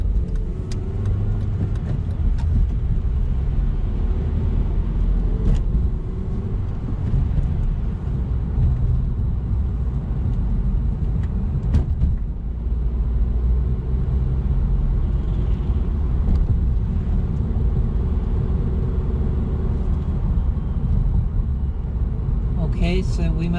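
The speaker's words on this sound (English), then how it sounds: "clutch up, give gas." A manual-transmission car pulls away from a stop, its engine giving a steady low rumble throughout, with a person talking over it.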